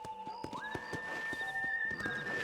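Horse in the Red Dead Redemption game on Nintendo Switch, hooves clip-clopping in a steady rhythm with a whinny and a sustained whistle-like tone overhead, close and moderately loud.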